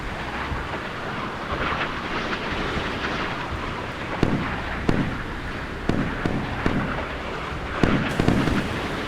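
Missiles streak past ships in the naval video game Sea Power, a continuous roaring rush of noise broken by several sharp cracks and bursts in the second half, loud and with no voices.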